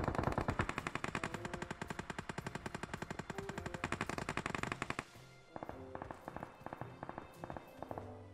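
Rapid automatic gunfire in the battle royale game PUBG, a loud dense burst of shots lasting about five seconds, then sparser, quieter single shots and clatter.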